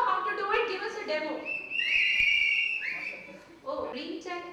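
A conference audience member whistles a sustained, wavering tone for about a second and a half, set between stretches of talk in a reverberant hall.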